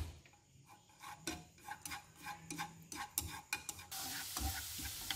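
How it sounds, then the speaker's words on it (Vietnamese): Minced garlic frying in oil in a pan for a crispy pork-crackling chili garlic sauce, giving a steady close sizzle broken by clinking stirs and scrapes of a utensil. "mình băm nhuyễn mình phi thơm nó lên"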